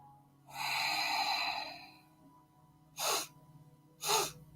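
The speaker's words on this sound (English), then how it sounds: "One exhale through the nostrils." One long, audible exhale pushed out through the nostrils during a breathing exercise, followed by two shorter sharp breaths through the nose, close and clear in a quiet room.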